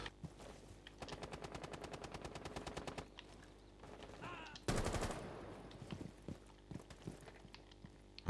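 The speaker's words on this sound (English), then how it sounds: "I thought I heard the sound when you hit someone, so I think I hit Jaeger" Gunfire from a first-person video game: a fast rapid-fire burst of shots, then a louder blast and scattered single impacts and footsteps, heard close and alone.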